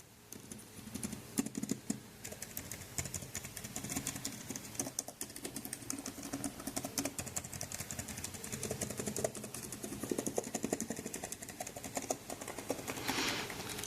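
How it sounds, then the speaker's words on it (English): Fast, continuous typing on an uneven Lenovo laptop keyboard, the individual keystrokes clicking at slightly varying pitches, close and fairly quiet. "the keys are all over the keyboard and they make completely different sound"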